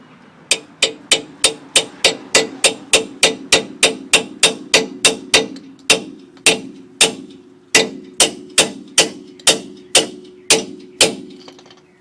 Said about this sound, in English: get a hammer, and you want to hit right here